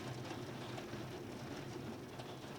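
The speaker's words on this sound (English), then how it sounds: "The sound of the wind in the rain and the thunder." Rain and wind sweep through during a storm, a continuous broadband wash with a low rumbling undertone, steady and enveloping with no talking.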